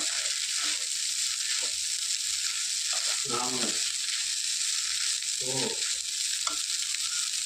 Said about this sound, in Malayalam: നന്നായിട്ട് ഫ്രൈ ആയി വരുന്നുണ്ട്